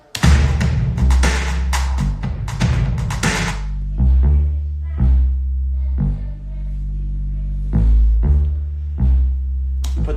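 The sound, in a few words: bass line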